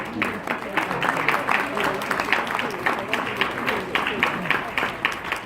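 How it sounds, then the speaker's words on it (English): Audience applause at a marriage conference, a dense rhythmic patter of many hands with crowd murmur and voices mixed in underneath. "if you could put your hands up, please, round of applause."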